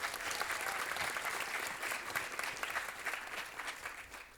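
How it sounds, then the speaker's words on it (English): Audience applause at a live forum event, a dense, steady wash of many hands clapping that holds throughout and eases slightly toward the end. "Let's give a round of applause to Jacob for the wonderful introduction"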